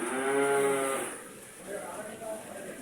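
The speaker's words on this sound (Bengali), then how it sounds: "এটা একটা বিশাল আকৃতির একটা গরু" A large cow moos in one long, loud call near the start, then fades, and quieter low sounds follow in the open air.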